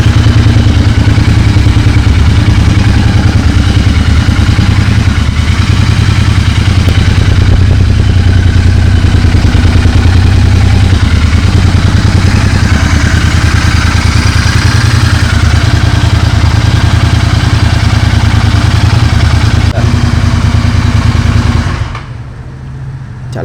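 Royal Enfield GT 650 motorcycle engine running hot: a loud, steady, deep rumbling idle with a throbbing low pulse and light mechanical clatter, close and continuous for about twenty seconds before it cuts off abruptly into near silence.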